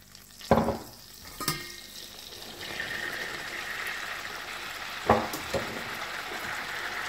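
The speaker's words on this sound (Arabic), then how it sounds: "وغادي نخلطو حتى كينسجم مزيان مع هذاك الزبده بهذه الطريقه" Flour is stirred into melted butter in a pan with a soft, continuous sizzle, marked by a few sharp scraping knocks of the utensil against the pan.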